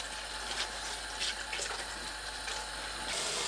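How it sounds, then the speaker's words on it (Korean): Kale rinsed under a running kitchen tap, a continuous close splashing of water with brief surges as the leaves move through the stream. "케일을 씻어줍니다."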